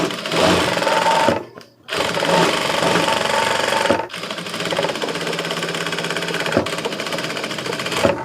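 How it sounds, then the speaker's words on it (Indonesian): A sewing machine stitches fabric for an instant hijab, running in loud, close, continuous mechanical bursts that stop briefly twice, with no talking. "Nah kita jahit seperti ini teman-teman."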